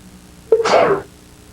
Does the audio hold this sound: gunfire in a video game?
no